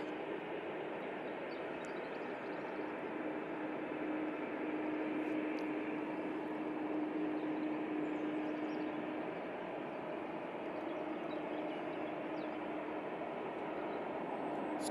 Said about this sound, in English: it's NetJet, Cessna Citation, latitude